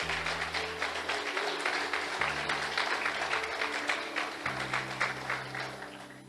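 Church congregation applause during a worship service, a dense wash of clapping that carries on steadily over loud music with a deep, shifting bass line.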